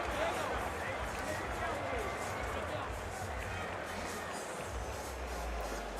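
A large crowd at a Bellator 110 MMA fight event in Uncasville, Connecticut, filling the arena with a steady roar and cheering while a commentator talks over it.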